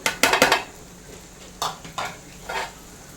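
A spoon clinks and scrapes against a pan while spice powders are stirred into beef pickle, with several short metallic clatters in quick bursts followed by a few softer scrapes, close and moderately quiet.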